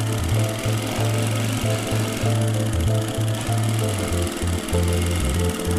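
An electric sewing machine stitches lining straight onto the main cloth, running in loud rhythmic bursts of rapid needle chatter with short stops between runs, close up and with no talking.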